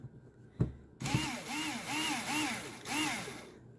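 A power screwdriver loosens Phillips head screws on a tabletop furnace, the motor whirring in short repeated pulses after a single knock, close and fairly loud.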